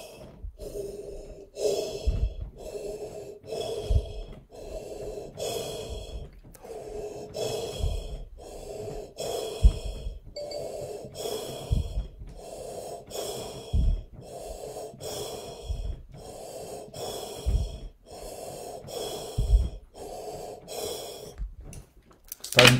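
A person does a breathing exercise meant to ward off coronavirus, drawing loud, close, forceful breaths and exhales in a steady rhythm roughly every second, repeating without pause throughout.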